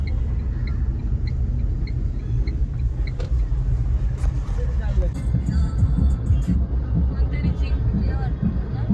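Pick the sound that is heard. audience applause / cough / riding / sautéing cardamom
riding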